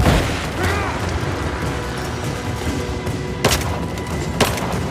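Gunfire in the video game Rise of the Tomb Raider: loud, rapid shots and booming impacts in a continuous firefight, with two sharp cracks standing out toward the end.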